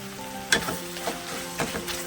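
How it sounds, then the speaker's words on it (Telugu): Tomatoes sizzle in a covered pan, a soft steady hiss beneath a few sharp clinks and taps of a utensil against the metal lid, heard close with no talk. "టమాటా వేసి మూత పెట్టుకుందాం."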